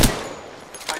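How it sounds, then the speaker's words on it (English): Gunfire in Apex Legends on Xbox, with a sharp shot at the start and another softer burst near the end of a very brief moment. "Shots fired at me."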